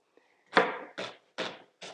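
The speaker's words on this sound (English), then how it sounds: "Rough chopping straight into the saucepan." Ingredients are roughly chopped on a board over a saucepan: four distinct knife chops at an even, unhurried pace, close and crisp, with silence between strokes and no talking.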